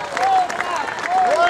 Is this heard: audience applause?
yes